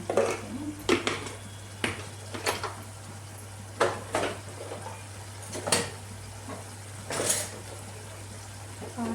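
A spoon stirs chili powder into a spinach curry in a pan, making repeated scraping and knocking strokes against the pan at an uneven rhythm, close by, over a low steady hum.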